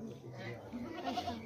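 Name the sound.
goat bleating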